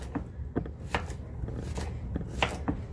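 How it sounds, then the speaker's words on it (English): A knife chops potatoes for a loaded potato salad, with a handful of sharp, close, irregularly spaced cuts against a board over a quiet room. "So we're chopping these up."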